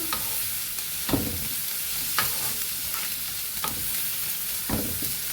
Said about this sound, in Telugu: కొంచెం ఇంకా ఒక 2 నిమిషాలు ఫ్రై కావాలండి. చూడండి, బాగా ఫ్రై అయ్యాయి.